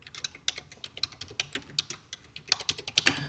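Someone types JavaScript code on a computer keyboard: close, crisp keystrokes in quick, irregular bursts that speed up toward the end, with no talking.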